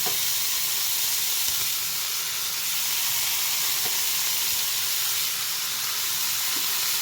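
Bitter gourd pieces fry on low heat in a pan for a tomato curry, giving a loud, continuous, even hiss and sizzle with faint bubbling and no talk.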